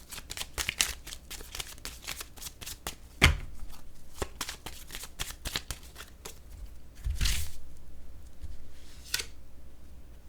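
Tarot cards are riffled and shuffled by hand in quick rapid bursts of crisp slapping clicks, close to the microphone, with a few louder snaps between the flurries.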